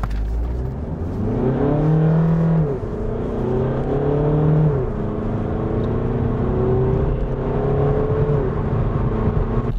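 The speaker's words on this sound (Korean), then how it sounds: "190마력의 힘을 차분하게 끌어내면서 속도를 올리고 있는데요. 자, 엔진 사운드도 그렇게 거칠지 않죠" A Volkswagen Passat GT sedan with a 190-horsepower engine accelerates from a standstill in sport mode with the shifter in S. The close, smooth drone rises in pitch, drops briefly at the upshifts, then keeps climbing.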